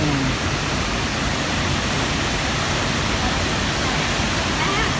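Steady roar of Huai Suwat waterfall in Thailand, dense broadband rushing water filling the whole clip at constant loudness, close by.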